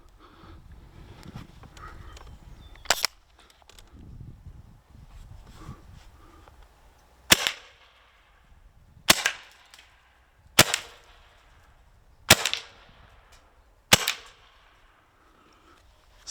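HDR.68 CO2 gun firing real 9mm bullets through a chronograph, six sharp loud cracks spaced a second or two apart, with quiet handling noise between shots.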